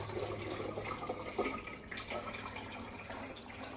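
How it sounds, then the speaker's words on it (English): Water poured into a fruit infuser bottle set over a cloth or paper towel, a steady faint trickle and splash running throughout with no talking. "Now I will put the water in."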